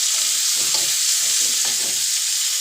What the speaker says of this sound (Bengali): এবার হচ্ছে আমি জিনিসটা ভাজা ভাজা করব